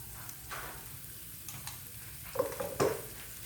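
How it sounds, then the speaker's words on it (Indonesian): Garlic being sautéed in a little oil in a pan, a faint steady sizzle with a few soft scrapes and a pair of louder utensil clicks near the end. "Ditumis sampai bawang putihnya harum dan berubah warna."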